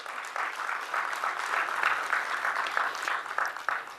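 Applause from an audience at an American Society for Quality conference, a steady patter of many hands clapping at moderate level for about four seconds, fairly even with no voices on top.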